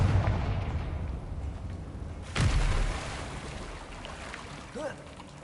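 A Confringo blasting spell explodes in a Hogwarts wizarding video game, a single muffled boom landing midway through a low, rumbling game ambience, followed by a brief faint effect.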